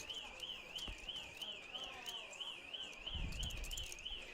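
A fire alarm sounding after an emergency door is opened, a steady warbling electronic tone that repeats evenly and continues throughout, heard at a distance beneath faint room noise and brief bumps.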